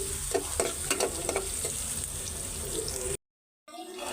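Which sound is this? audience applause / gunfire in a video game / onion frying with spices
onion frying with spices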